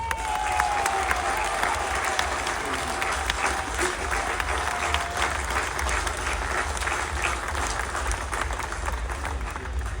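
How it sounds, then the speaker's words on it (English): Large outdoor crowd at the Durham Miners' Gala applauding and cheering to welcome a speaker, steady dense clapping sustained throughout with scattered shouts mixed in. "Let's give him a big, proud County Durham welcome. The voice of the pitman, Alan Mardghum."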